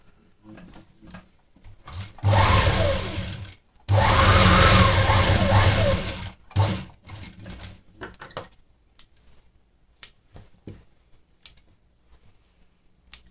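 Sewing machine stitching the remaining section of a pinafore, a dense motor burst of about two seconds, a short pause, then a longer burst of nearly three seconds, with scattered clicks and taps before and after.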